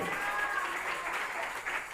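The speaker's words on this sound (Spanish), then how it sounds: "Dale otro aplauso al que vive por siempre." Congregation applause at a church service, a dense steady wash of clapping that carries evenly through with voices mixed in.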